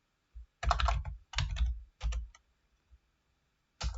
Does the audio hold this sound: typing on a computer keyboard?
yes